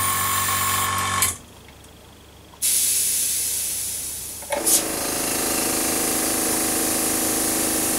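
A Sparmax Arism Viz air compressor runs with a steady hiss and hum. It cuts out for about a second, then returns, with a brief sharp burst before settling into a lower, even drone.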